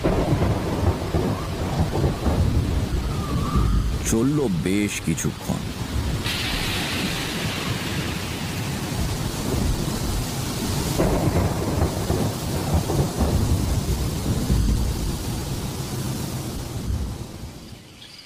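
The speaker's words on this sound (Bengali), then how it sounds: "ঝড় থেমে গিয়ে বৃষ্টি নামলো।" Rain falling steadily with rolling thunder in an audio drama scene, a continuous loud wash of rainfall with deep rumbles and a sharp crack early on, a brief narrating voice near the end.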